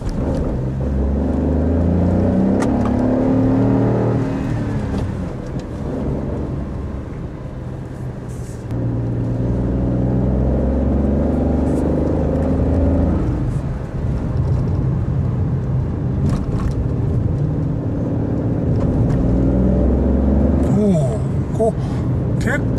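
Honda N-ONE RS with a six-speed manual and turbo engine climbs a mountain road slowly in third gear at about 30 km/h, its steady engine drone rising and falling in pitch as a voice talks over it.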